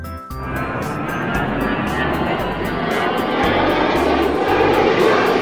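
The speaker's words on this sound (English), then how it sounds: "Army airplane." A toy army airplane gives off a steady, loud droning engine hum that holds and slowly swells for several seconds, close to the microphone.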